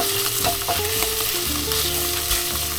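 Bacon crisps in a frying pan with leftover oil and bacon fat, giving a steady, close sizzle that runs through the clip beneath background music.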